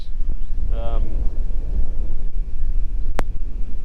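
Outdoor wind roars steadily as a low, rumbling buffet across the microphone, continuous throughout with a brief tonal whistle and a sharp click partway through.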